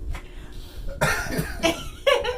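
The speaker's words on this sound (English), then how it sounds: "He gonna start coughing now." Several harsh coughs burst out in quick succession, close and loud, with short pauses between them.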